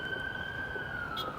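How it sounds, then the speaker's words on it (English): A police siren sounds in the distance as a faint, steady tone over low traffic rumble, briefly heard and fairly quiet. "Babylon sirens, right?"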